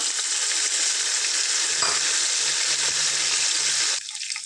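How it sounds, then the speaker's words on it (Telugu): Bay leaf and fenugreek seeds, with salt and a handful of mint, frying in hot oil for a chicken biryani, a steady loud sizzle holding throughout before dropping sharply near the end. "వీటిని చక్కగా ఫ్రై చేసుకుందాం"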